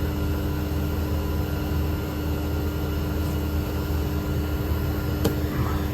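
Mini split air conditioner running in winter, a steady continuous hum and whir with tonal drone lines, close and unbroken throughout, with a brief faint click near the end.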